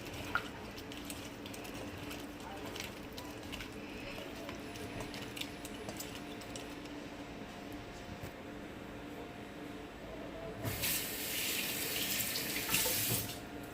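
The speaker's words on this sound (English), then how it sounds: "Rinse my hand off." Kitchen tap water bursts on near the end after a quiet stretch of low background noise, running steadily as hands are rinsed off during preparation of Jamaican-style homemade fried shrimp.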